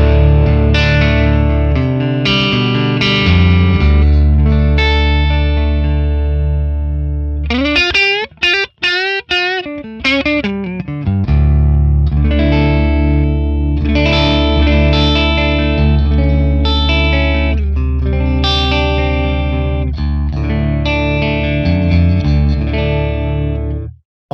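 Electric guitar on its neck pickup played through a Friedman PLEX amp capture with no reverb, loud distorted chords and single notes ringing out, with a brief choppy muted passage in the middle; no talking.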